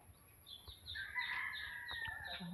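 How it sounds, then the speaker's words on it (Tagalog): A chicken near a backyard papaya plant gives a short series of calls, faint and somewhat distant, with no talking over it. "May manok na naman sa papaya"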